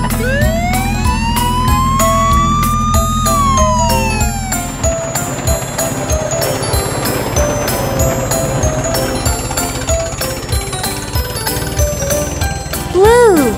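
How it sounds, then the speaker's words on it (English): A police car siren wails in rising and falling sweeps over a busy stretch of bells, horn-like tones and rhythmic clatter, loud and close, ending with a sharp upward siren sweep. "police car."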